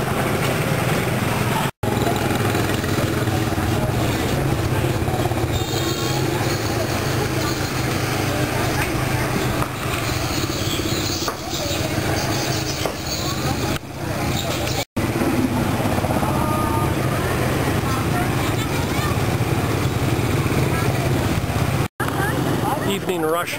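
Evening rush-hour traffic in My Tho, Vietnam, mostly motorbikes with few cars: a dense, continuous roar of small engines passing close by, with someone talking over it throughout.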